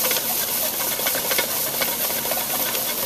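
Mirepoix of onion and celery tops hits a hot pan while it is deglazed for a classic fish stock, giving a steady, loud, close sizzle and steamy hiss that runs unbroken with no talking.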